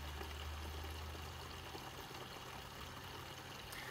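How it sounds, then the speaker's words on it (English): Terapump 4th Gen TRFA01 fuel transfer pump moving gasoline through a hose into a tank, a steady close rushing pour with a low motor hum underneath, continuous and even throughout. "Pump is on, gas is coming through the hose, it's going in, and it's going into the tank."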